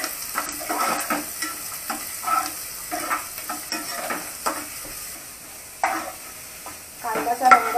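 Finely chopped onion fried in a few spoons of hot oil with curry leaves for a black peas curry, giving a soft steady sizzle broken by repeated stirring scrapes, moderately close, with no talking.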